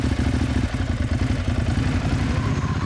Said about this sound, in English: So I picked up a Ducati Hyperstrada. Its engine is a monster.